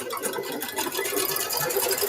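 A sewing machine stitches through fabric-wrapped rope with a fast, continuous mechanical whir that stays even and close for the whole stretch.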